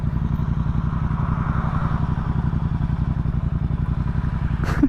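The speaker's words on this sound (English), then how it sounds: "I want an exhaust so bad. It's too quiet. I can't even hear my bike." A Suzuki DRZ400SM supermoto single-cylinder engine with a quiet stock exhaust runs steadily, giving a close, even, rapid thumping putter with light mechanical clatter and no voices.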